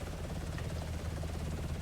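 A helicopter in the video game BRM5 settles in to land, its steady low rotor thrum and engine drone filling the sound evenly throughout.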